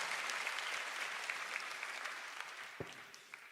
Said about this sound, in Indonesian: Boleh tepuk tangannya di extend buat tim praise and worship kita.